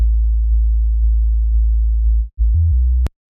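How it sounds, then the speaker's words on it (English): A compressed sine wave sub bass pitched three octaves down for a drum and bass track, a loud, pure low hum holding steady notes with a brief gap before shifting pitch and cutting off. "So it's just a sine wave, 3 octaves down, and we've just got a bit of compression on there."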